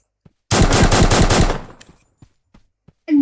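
A new weapon in a video game fires a rapid automatic burst of about a dozen loud shots over one second, followed by faint tail echoes, scattered small clicks and a brief final sound.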